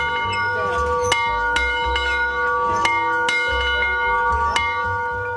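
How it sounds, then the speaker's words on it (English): A welcome bell rings at the Winklepleck Park rally site in Sugarcreek, Ohio, during a Swiss Festival rally. Several resonant strikes ring out at irregular intervals, their tones sustaining over a steady low background rumble. "The first sound you hear upon entering Winklepleck Park, the rally site, will be the welcome bell."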